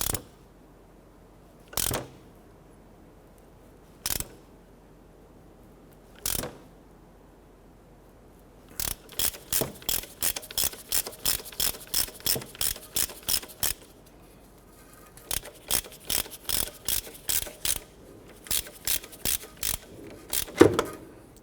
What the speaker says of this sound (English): Now we're using a puller tool here to go ahead and pull our harmonic balancer here.